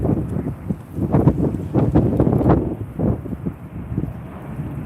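Gusty night wind buffets the microphone while catfishing, rough low rumbling surges rising and falling in uneven bursts for several seconds without talk.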